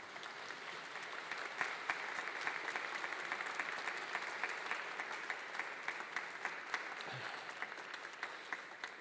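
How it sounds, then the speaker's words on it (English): PhD graduates at a graduation ceremony stand and applaud in a large hall, a long sustained burst of many hands clapping, moderately distant and steady, with a few louder individual claps. "express your gratitude by a round of applause"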